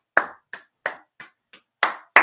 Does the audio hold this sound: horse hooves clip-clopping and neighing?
no